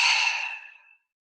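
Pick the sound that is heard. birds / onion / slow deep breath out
slow deep breath out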